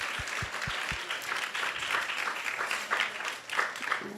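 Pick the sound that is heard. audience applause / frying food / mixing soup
audience applause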